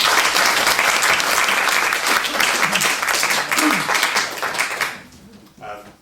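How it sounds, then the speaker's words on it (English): An audience at a 2005 tribute event breaks into loud, sustained applause, dense clapping that fades out at the end as a voice begins to speak. "Round of applause, please, for Jim and Frank."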